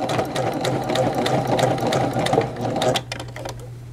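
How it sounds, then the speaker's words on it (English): A domestic sewing machine stitches a seam on a women's button-down shirt, running in a steady close whir with rapid needle clatter before slowing and stopping near the end. "simply just run off the machine."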